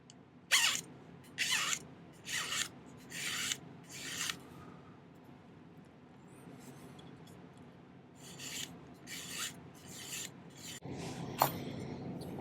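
A metal file rasps across the bottom of a jewelry bezel to flatten it, in a run of steady strokes early on, a quieter stretch, then several more strokes, close by with no talking.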